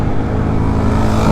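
A car on a steep uphill road straining and accelerating to overtake, a loud, steady low engine drone with a slowly rising pitch, close and alone.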